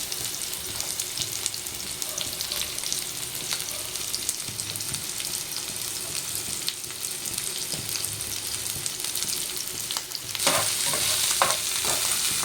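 Onion and chilli pieces fry in hot oil for a chicken curry, with a steady sizzle and occasional stirring scrapes throughout. A brighter, louder burst of sizzling comes near the end.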